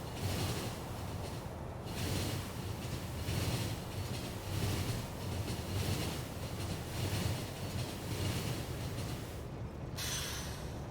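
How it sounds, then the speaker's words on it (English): Trains running along a rail network in the game Factorio, a continuous rumbling rail clatter with a steady rhythmic pulse and no talking. "Having actual trains doing train things."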